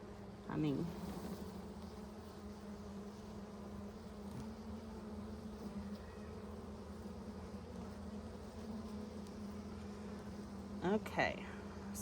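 A steady, droning hum of many honeybees in a hive fills the air, constant and close, with a couple of brief voices breaking in faintly.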